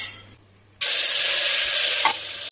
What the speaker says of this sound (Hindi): तो अभी मैं सब्जी में डाल रही हूँ टमाटो,